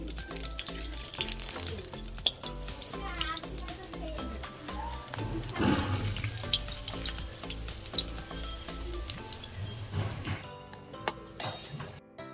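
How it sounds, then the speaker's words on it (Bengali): Lentil fritters made with pointed gourd shoots frying in oil over medium heat, a continuous bubbling sizzle with frequent clinks of a utensil against the pan, with a voice talking over parts of it. "দিয়ে উল্টে পাল্টে খুব ভালোভাবে এটাকে ভেজে নেবো"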